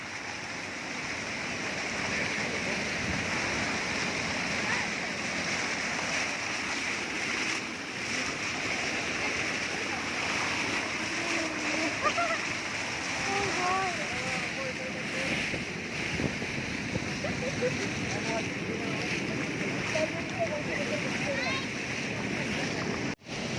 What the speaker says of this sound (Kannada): ವಾಟರ್ ಫೋರ್ಸ್ ನೋಡಿ ಎಷ್ಟು ಫೋರ್ಸಲ್ಲಿ ಬರ್ತಾ ಇದೆ